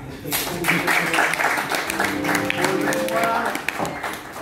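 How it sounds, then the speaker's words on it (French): Audience at a casting session breaking into brisk applause, a close, lively patter of many hands that holds steady before thinning slightly near the end. "Applaudissez pour moi."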